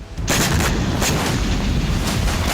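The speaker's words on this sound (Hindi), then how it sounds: "ड्रोन धमाके होने से तेल डिपो के टैंकर फट गए" Explosions from a Russian drone attack on an oil depot in Kharkiv, where tankers burst, heard as a loud continuous roar of blasts and rumbling with sharp cracks, no voices.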